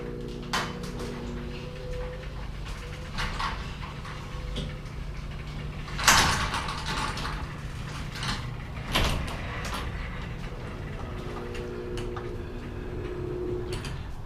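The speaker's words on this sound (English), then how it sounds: "it's time to open the door with my handy little LiftMaster here" A LiftMaster garage door opener runs a new garage door open with a steady mechanical hum and rattle, ticking and clunks along the way, and a couple of louder bangs partway through.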